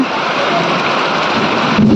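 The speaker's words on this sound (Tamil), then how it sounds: "ஆனால் இன்னும் மழை விடலை" Steady rain pours down in dark daytime weather, a dense continuous hiss with a low thunder rumble mixed in, fairly loud and close throughout with no talk.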